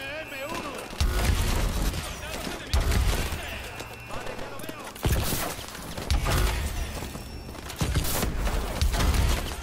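Combat in Call of Duty: Advanced Warfare, in a reactor area with enemies on a balcony. Loud, heavy bursts of gunfire and impacts come in waves every couple of seconds, with shouted Spanish-language dialogue between the salvos.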